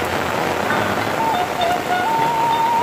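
Heavy afternoon rain pouring down on the village of Sawangan Lor, a dense, steady hiss of rainfall on surfaces, loud and unbroken throughout.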